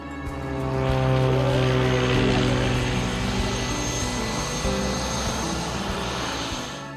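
A single-engine Piper Comanche propeller plane drones steadily nearby, its engine tone rising to a full, loud hum and holding for several seconds with no talk over it.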